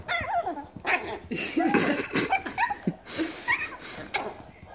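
A Yorkie and a dachshund play together, with yips, whimpers, short barks and playful growls coming in quick uneven bursts at close range, and a person talks softly in the background.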